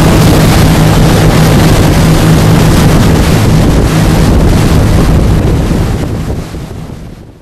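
Loud, steady motorboat engine drone at Tadoussac, Quebec, buried under heavy wind buffeting, holding constant before fading away in the final seconds.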